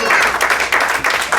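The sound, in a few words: congregation applause in church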